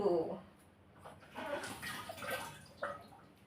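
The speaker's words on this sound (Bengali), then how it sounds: "আমাকে হাতটা ধুতে হবে একটু" Hands being washed under running water from a tap, giving soft splashing and trickling with a few louder gushes, close and moderately quiet, with brief murmurs in the background.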